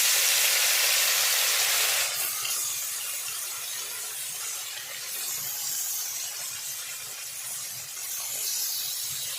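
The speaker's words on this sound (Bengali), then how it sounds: "মাছগুলো এভাবে উল্টে পাল্টে ভেজে নেব" River rui fish fry in very hot white oil in a wok, a loud steady sizzle and hiss that drops after the first seconds, then continues crackling with faint scraping, with no voice.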